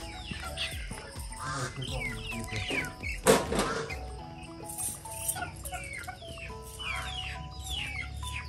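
Farm fowl cluck and call repeatedly around a trap site in western Cameroon, one louder squawk rising mid-way among steady chatter of poultry, moderately near with a faint background murmur.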